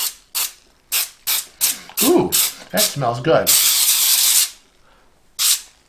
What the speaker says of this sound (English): So give it a nice little spray, little spurts, is what I do.